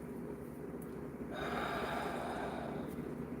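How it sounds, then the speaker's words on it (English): Someone draws a long, deep breath in through the nose, a steady breathy rush rising midway over a low, constant background hum. "Take a deep breath in through your nose"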